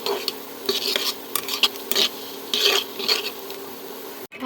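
Lentils frying in oil are scraped and stirred continuously with a metal spatula in a pan, giving repeated rasping, scraping strokes in an irregular rhythm, close and fairly loud, with no talking.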